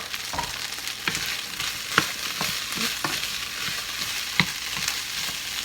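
Chopped onion frying with half-cooked potatoes in a pan for a vegan breakfast burrito, a steady sizzle with occasional sharp spatula taps and stirring scrapes, close up with no voices.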